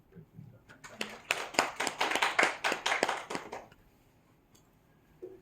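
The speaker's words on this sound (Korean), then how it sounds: "감사의 박수 드립니다" Audience at an academic presentation session on deep learning wafer edge defect detection clapping in thanks, a short burst of applause from a modest crowd that swells, then fades within a few seconds, with a voice briefly before and after.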